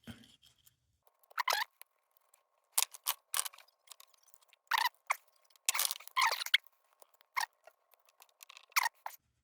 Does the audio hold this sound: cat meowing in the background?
no